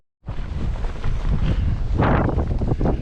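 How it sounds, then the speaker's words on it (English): Strong gusts batter the microphone on an exposed coastal hiking trail in England, a loud rough roar starting abruptly and surging in buffeting waves throughout. "It's crazy windy."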